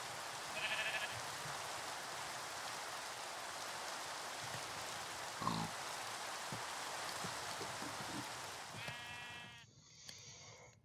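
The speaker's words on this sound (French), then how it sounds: "Alors, mouton." Sheep bleating in the Minecraft modpack Sky Greg, a few repeated bleats over steady rain-like ambient noise, with a sharper game sound near the end.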